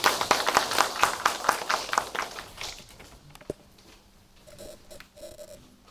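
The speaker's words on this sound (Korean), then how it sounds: "큰 박수로 맞아주시면 고맙겠습니다." A few hands clap at a ceremony marking the Jeju Research Institute's 24th anniversary, sparse distinct claps for the first half that quickly thin out and fade into quiet room noise with a faint tone.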